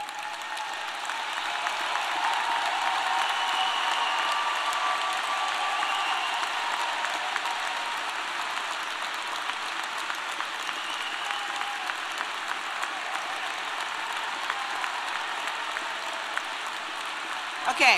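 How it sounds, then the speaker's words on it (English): Graduating students at a Wharton undergraduate ceremony give a long round of applause to their families, a dense, sustained clapping from a large crowd that holds steady for the whole stretch. "give one more round of applause to your families"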